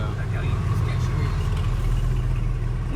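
A low, steady engine drone rumbles inside the cabin of a Mansory Mercedes SLR, constant and loud, with a faint voice buried in it.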